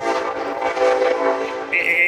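A train passes close to a home, its horn sounding loud and sustained over the rumble of the railcars, with the horn rising sharply near the end.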